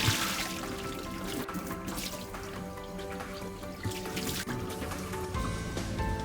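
Rinse water trickles and splashes continuously as it drains from a part of a Miele built-in coffee maker, close and steady with small drips throughout.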